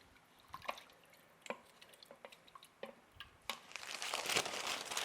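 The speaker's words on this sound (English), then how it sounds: "So just give that a little stir while you kind of scrape up anything that's stuck to the bottom." Beef broth and water are stirred in an Instant Pot while the bottom is scraped, giving soft, close liquid sloshes and spoon scrapes in an irregular rhythm, ending in a brief louder splashy rush.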